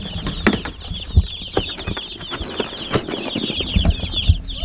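Farm chickens, including pet laying hens and black birds resembling meat chickens, cluck and chatter in an irregular flock chorus, with scattered thumps and wing flaps over steady background noise.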